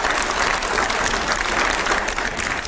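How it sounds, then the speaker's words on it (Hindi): A studio audience at a TV interview claps loudly and steadily in a dense burst of applause without speech. "पहले जोरदार तालियां"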